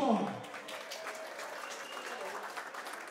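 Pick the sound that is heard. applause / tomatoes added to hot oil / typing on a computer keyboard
applause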